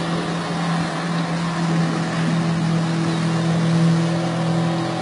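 A car engine holds high revs as the vehicle pushes through deep water, making a loud, steady droning hum with a constant tone and no pauses.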